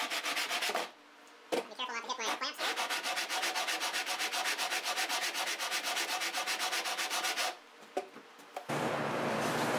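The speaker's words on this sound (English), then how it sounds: "I've now sanded the tail block" Steady, rapid rhythmic sanding strokes on the wooden tail block and lower bout of a steel-string guitar rim, close and continuous, with short pauses near the start and end.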